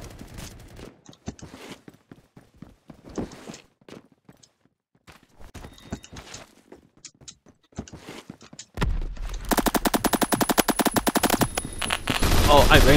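Automatic gunfire in the Roblox shooter Phantom Forces, a sudden loud sustained burst of rapid shots after quieter footsteps and brief talk, continuing to the end.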